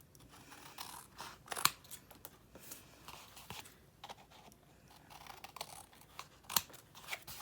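Scissors snipping corners off a craft project, soft close cuts in short irregular runs with a couple of sharper clicks, quiet overall.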